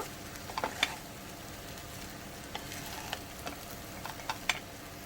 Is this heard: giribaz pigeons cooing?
no